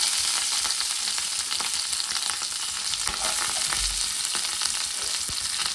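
Onions sizzle and fry steadily in a hot pan with curry leaves for a Kannada suvarna gedde (yam) sukka, a dense continuous crackle close by with occasional stirring clatter and no talk.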